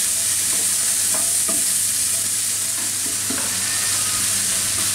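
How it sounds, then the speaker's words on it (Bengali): Capsicum, tomato and onion being stir-fried with black pepper in a pan, with a continuous close sizzle and several utensil scrapes and taps as the vegetables are tossed, and no voices. "একটু লবণ দিয়ে দিই, আর একটু গোলমরিচের গুঁড়া দিয়ে এর সাথে 1 মিনিটের মতো নেড়ে ফেলে নিই"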